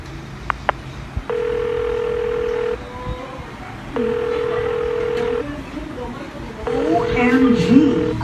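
A landline telephone dialing to call parents, with a couple of clicks, then long steady dial tones repeating in three separate stretches, with speech and other noise faintly beneath.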